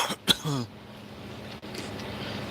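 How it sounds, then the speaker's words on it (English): A truck driver with worsening breathing gives a sharp cough and a throaty rasp up close inside a cab, followed by a low steady engine hum. "Sorry for all the coughing."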